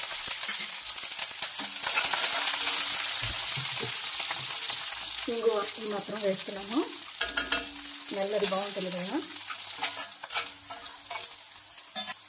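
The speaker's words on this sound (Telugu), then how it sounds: "ఆవాలు వేగుతున్నాయి. ముందుగా శనగపప్పు ఫ్రై అవనిద్దాం" Mustard seeds, chana dal, curry leaves, dried and green chilies and asafoetida frying in oil for a tempering, a steady bright sizzle with stirring scrapes throughout, close and loud, while someone talks over it.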